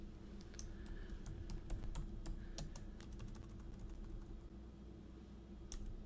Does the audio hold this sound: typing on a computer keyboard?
yes